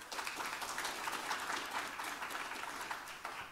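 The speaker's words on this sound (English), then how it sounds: "Let's give another round of applause, please." A conference audience claps after a commissioner's speech, a fairly faint, distant patter of many hands with a slightly uneven rhythm, continuing for a few seconds without speech.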